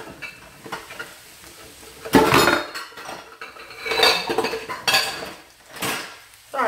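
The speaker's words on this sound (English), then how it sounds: "I have got to get a bowl." A bowl being fetched in a kitchen, with close clatter of dishes and cutlery and knocks against hard surfaces over a steady sizzle of frying food.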